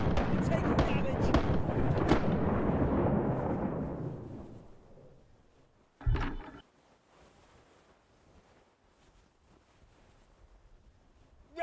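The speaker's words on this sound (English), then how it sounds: "Ready. Fire the cannon." Ship cannons fire in the pirate naval battle game Rise of Piracy: a loud, rumbling barrage of booming blasts fades over several seconds, then a single sharp cannon shot follows, with faint background after.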